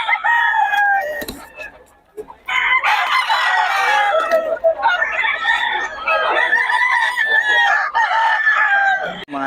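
Chickens and roosters at a poultry market in Bocaue crow loudly and repeatedly close by, with clucking in between, while someone talks over them at times.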